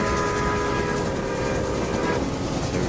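A train in the Railway Empire video game runs along with a dense, steady rolling rumble, and sustained horn tones sound over it throughout, loud and continuous with no talking.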